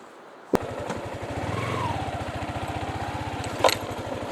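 Yamaha Sniper 155 motorcycle engine idling and running with a steady, rapid pulsing throb during a river ride, with two sharp knocks standing out against the continuous drone.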